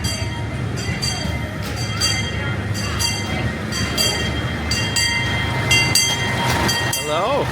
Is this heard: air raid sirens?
no